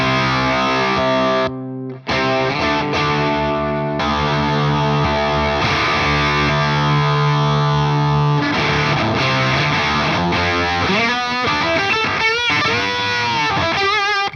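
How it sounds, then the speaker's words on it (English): Electric guitar run through an MXR Slash Octave Fuzz with the octave up, feeding a dirty amp: thick, saturated fuzz riffs and held chords, loud and close, with a brief gap near the start and faster bends toward the end. "Now I've just got the octave up and the fuzz going into the dirty amp."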